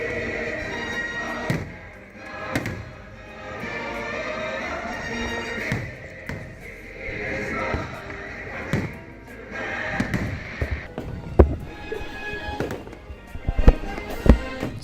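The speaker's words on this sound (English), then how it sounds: "The biggest and the best fireworks display" Fireworks display at Disney World: repeated booming thumps and crackling bursts at an irregular pace, some loud and close, over a steady crowd murmur with scattered voices.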